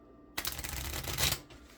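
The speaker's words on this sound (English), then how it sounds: "To do the riffle shuffle, which is what you hear there" A deck of playing cards riffle-shuffled, a crisp burst of rapid fluttering card clicks that rises toward the end and cuts off, heard up close with no voices.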